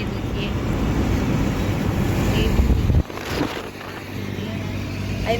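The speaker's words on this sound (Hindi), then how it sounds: "अरे मेरा फ़ोन उड़ के गिरने वाला था, इतनी तेज़ हवा थी" Strong wind buffets a phone microphone outdoors as a low, roaring rumble that runs throughout, with a sharp dip and change in the gusting about halfway through, then steady roaring again.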